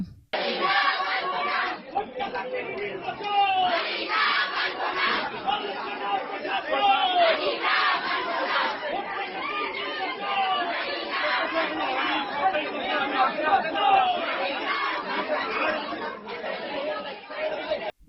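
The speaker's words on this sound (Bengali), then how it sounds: "রোকেয়া হলে ভোট বন্ধ বিক্ষোভ চলছে" A dense crowd of students protests at Rokeya Hall, Dhaka University, after voting was halted in the student union election, making continuous loud overlapping shouting and chatter with occasional raised voices.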